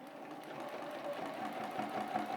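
A sewing machine runs steadily while machine-stitching straight quilting lines outward from the center of a quilt block, a continuous close whirring hum with no talk.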